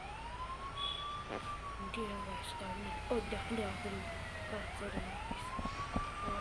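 Ambulance siren in a bus simulator driving game, a wailing tone sweeping up and down at moderate level over engine and traffic noise, with someone talking excitedly over it.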